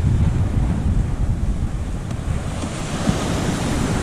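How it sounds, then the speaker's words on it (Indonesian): Ocean waves break and wash steadily on Senok beach during a fishing competition, a continuous loud surf roar mixed with gusting wind buffeting the microphone. "Ada gelombang sikit."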